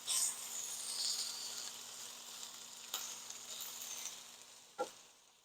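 Potato skins sizzle steadily in a hot skillet, a continuous bright crackle with a couple of sharp clinks as they are flipped, no voices.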